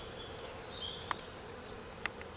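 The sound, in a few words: honey bees buzzing at an opened hive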